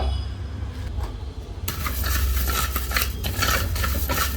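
Coriander seeds are dry-roasted and stirred in a clay pot, giving a continuous scraping, rustling clatter that grows busier and louder partway through, with no talking.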